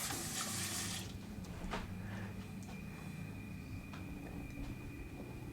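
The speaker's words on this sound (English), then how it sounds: "Let's give that a quick rinse." Tap water running steadily into a sink to rinse a baking pan, a continuous close splashing wash with light clinks of the dish.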